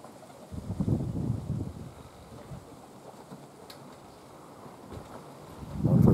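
Strong wind gusts roar across an open hillside, with low rumbling buffets that rise, fade, and surge again at the end, and no voices.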